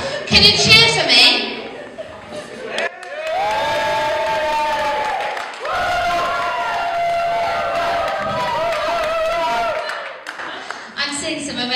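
A crowd at a costumed masked event cheers and screams loudly for several seconds after a host speaks, with shrill whoops over a steady roar and clapping, and talk at the start and end.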